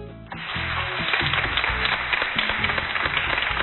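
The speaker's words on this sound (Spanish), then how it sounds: "aquí está el aplauso para Luis" A studio audience on the Argentine TV show Buenas y Santas breaks into dense, sustained applause for guest Luis Juez, the clapping steady and full throughout with a slightly muffled, band-limited quality.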